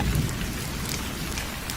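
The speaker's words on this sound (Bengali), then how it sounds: "মুসুলধারে বৃষ্টির সাথে" Heavy rain pours down in a dense, steady roar, loud and continuous with no voices.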